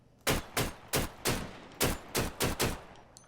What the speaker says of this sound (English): This is an RPK that I'm using. However, I am using it in semi-auto just because I want to try and conserve ammo.